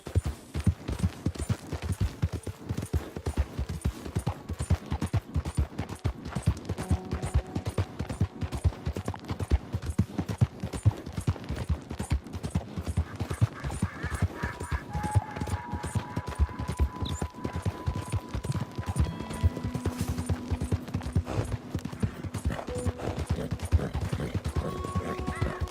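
A horse gallops in Red Dead Redemption 2, steady rapid hoofbeats pounding throughout, with occasional distant gunfire and faint game voices in the background.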